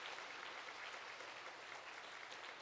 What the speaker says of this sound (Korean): 큰 축하의 마음을 담아서 박수해 주시기 바랍니다